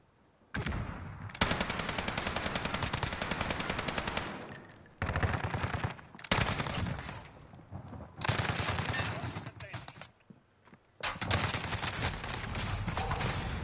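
Rapid automatic gunfire in a video game rattles out in long, loud, sustained bursts, broken by brief pauses between volleys.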